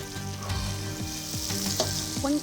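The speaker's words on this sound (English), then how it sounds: "I'm just waiting for the fish to finish frying" Fish frying in a pan on a busy cooking competition set gives off a steady close crackling sizzle, with occasional scraping stirs breaking through the hiss.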